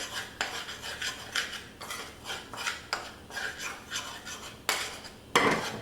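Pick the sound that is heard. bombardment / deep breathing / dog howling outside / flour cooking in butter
flour cooking in butter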